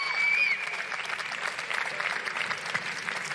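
Japanese karate team applauding from the stands at a karate competition venue, a steady wash of mid-distance clapping with crowd murmur and a faint whistle-like tone near the start.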